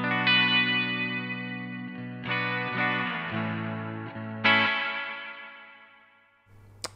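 An electric guitar through an Analog Alien Rumble Seat pedal with reverb turned well up plays a few sustained chords, each washing into a long, fading tail, close and clear with no voices.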